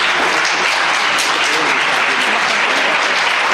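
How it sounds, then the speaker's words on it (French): Conference audience applauding steadily, a dense even wash of clapping that fills the whole stretch without pause, fairly loud and close, with no voices heard over it. "J'espère que ces applaudissements me sont destinés"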